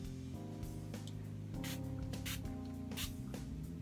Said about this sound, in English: I'm gonna spray this on now so that you guys can see.